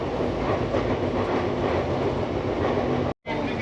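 Train running on rails in India, heard from inside a carriage: a steady, close rumble with rhythmic clatter from the wheels that continues throughout, with one brief dropout near the end and no talking.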